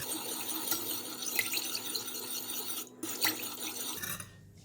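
A coconut pandan jelly mixture with sugar is stirred, giving a soft steady swishing with faint clinks of a utensil against the pot, quiet and close, no talking.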